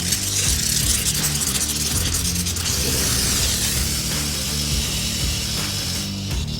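A foam applicator gun flushed with gun cleaner sprays out in a harsh, continuous hissing rush with mechanical rattling underneath, loud and close throughout without pause.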